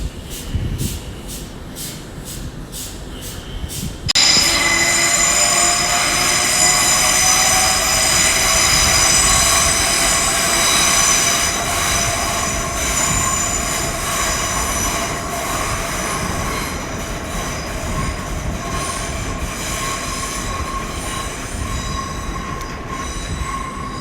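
A pair of Class 387 electric units, 387156 leading and 387144 at the rear, runs through London Paddington on the Great Western Main Line. A few faint clicks give way to a sudden loud roar with sustained wheel squeal that slowly fades.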